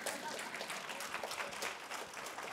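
Brief burst of audience clapping at a spiritual discourse gathering, dense and close, lasting a couple of seconds without a clear start or finish.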